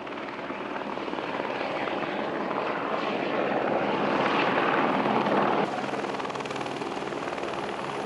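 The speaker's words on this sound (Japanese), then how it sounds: "ヘリによる荷揚げも行われました。" A helicopter hovers near a mountain hut on Echigo-Komagatake while delivering supplies, its rotor drone steady and loud, swelling toward the middle before easing slightly.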